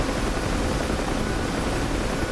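Helicopters flying in formation in the DCS flight game over an East Afghanistan map give a loud, continuous rotor and engine roar filling the whole stretch, with no talk over it.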